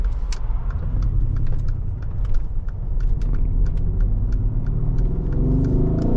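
A Mercedes-AMG GLE 63S driving in manual mode gives a deep, steady engine rumble from inside the cabin, rising slightly toward the end, with faint clicks and rattles scattered throughout.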